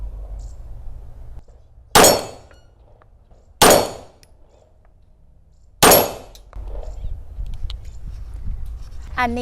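Three loud, sharp semi-automatic pistol shots ring out at steady intervals, each with a short decaying tail, after a Balista-type handgun is loaded and cocked. Background noise and faint voices sit between the shots.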